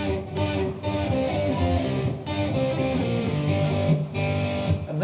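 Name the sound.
Intro riff on guitar with distortion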